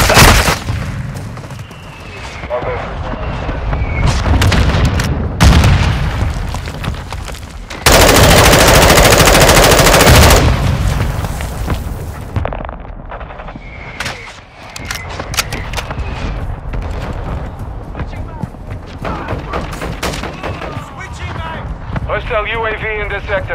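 Call of Duty: Modern Warfare II battle: loud rapid machine-gun bursts and booming artillery impacts, with a sustained roaring blast in the middle, mixed with shouted radio callouts.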